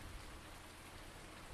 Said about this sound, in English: hopefully I can cut grass in the rain.